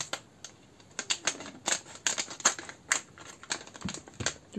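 Playmobil Novelmore figurine packaging being opened, a run of crisp plastic crinkles, clicks and tearing snaps close up, irregular and fairly quiet with no voice.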